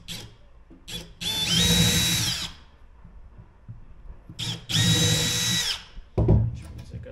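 A power drill drives screws into a camper bed frame in two sustained whirring bursts, each rising in pitch, loud and close, with brief knocks and handling noise between them.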